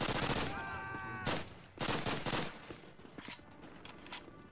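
Bursts of MG42 machine gun fire in a Call of Duty game, heavy rapid gunfire in several loud stretches with fainter shots and game noise between them.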